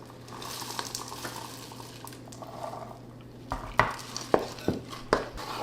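A utensil stirs thick cookie dough with caramel bites, pretzels and chocolate chips in a bowl: a quiet scraping at first, then about five sharp knocks against the bowl near the end, with no speech.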